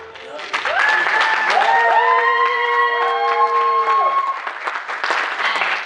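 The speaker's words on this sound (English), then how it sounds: "I just wanna give one more round clap for the winner." Audience at the KITFO Film Festival in Los Angeles applauds and cheers the festival winner, a loud steady wash of clapping with whoops and shouted voices sustained throughout, rising and sliding cheers standing out over the crowd.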